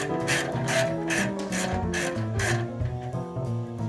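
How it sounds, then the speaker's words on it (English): A ratchet wrench tightens a nut on a bolt, with rapid, close clicking strokes in quick repeated bursts, loud and alone with no talk. "Ratchet."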